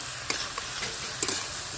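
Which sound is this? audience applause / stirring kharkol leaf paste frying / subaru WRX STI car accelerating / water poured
stirring kharkol leaf paste frying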